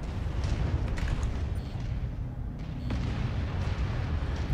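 Missile barrages from long-range missile launchers in the MechWarrior 5: Mercenaries game rumble continuously as a dense, loud, low roar of overlapping blasts, with a few sharper cracks rising out of the steady din.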